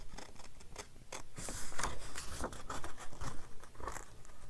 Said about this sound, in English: So I'm just going to go ahead and just cut out all 3 of these words.